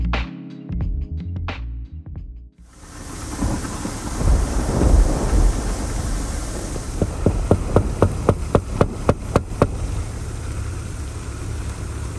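A deep, rolling rumble of thunder swells and fades amid steady rain, followed by a run of sharp, evenly spaced knocks.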